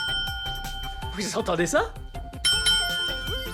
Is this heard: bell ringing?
yes